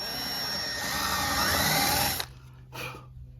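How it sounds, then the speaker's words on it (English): Power drill boring a small pilot hole for mounting a 115 HP Mercury outboard motor on a boat; a steady high whine for about two seconds, then the motor cuts and a brief second burst follows, close and alone. "I carefully come in here and I make a little pilot hole"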